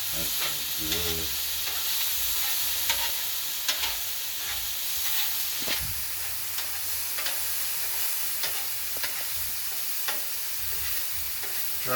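Chicken and pork fried rice sizzles loudly and continuously on a Blackstone flat-top griddle, with scraping spatula strokes and stirring throughout, up close.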